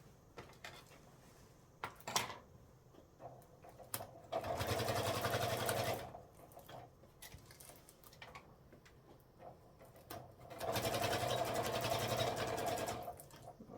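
A sewing machine stitches a 12 by 14.5 inch laptop sleeve in two close, steady bursts of whirring separated by quieter handling and small clicks, with no voices.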